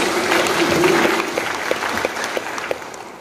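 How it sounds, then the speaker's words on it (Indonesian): Audience applause at a farewell and welcoming ceremony for the governor of NTT, a dense, fairly loud burst of clapping that thins into scattered claps, with a voice briefly audible early on. "Tepuk tangan dan juga aplaus."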